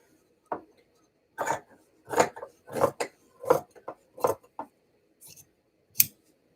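Scissors snipping fabric while a bag is sewn, in about eight crisp separate cuts spaced irregularly and close up, with quiet pauses between them.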